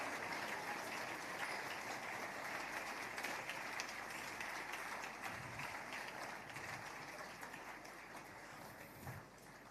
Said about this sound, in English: Wow, keep the applause coming.